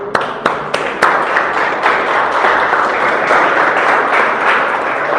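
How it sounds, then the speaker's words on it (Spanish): A church congregation bursts into sustained applause, with a few sharp separate claps at the start giving way to a dense, steady wash of clapping that fills the room for the whole stretch. "un aplauso"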